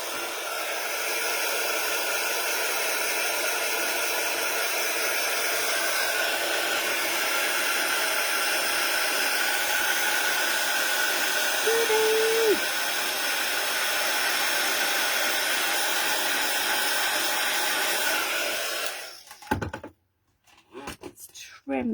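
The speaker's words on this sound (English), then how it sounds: "Let's get the heat gun on." Heat gun blows hot air over an inky card background, a loud, continuous whooshing hiss that runs steadily before cutting off abruptly near the end, followed by brief handling sounds.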